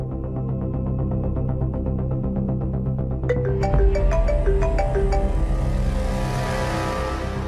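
A phone ringback tone repeats steadily while a call is being placed, a tonal ringing pattern over a low constant hum, joined partway through by a brighter, busier layer of tones.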